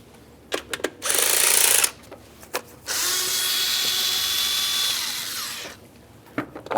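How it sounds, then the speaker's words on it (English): A power driver with a 1/4-inch drive square socket loosens the rear-center screw on the top engine cover of a 2003-2011 Mercury Grand Marquis, whirring in two close bursts, a short one and then a longer steady run, with small clicks between. "you'll find a screw that you can remove using a 1/4-inch drive square"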